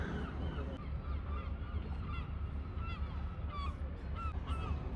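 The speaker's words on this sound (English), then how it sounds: "Here we have a mallard duck." Mallard duck calling on salt water in Bridlington harbour, repeated quacking honks scattered through steady outdoor background noise with other ducks nearby.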